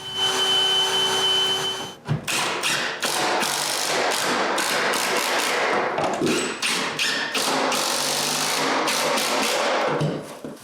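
A bathroom vanity base being fastened to a wall in a woodworking shop: a quick run of sharp taps, thuds and ratcheting mechanical bursts, close and loud, following a steady motor whine at the start.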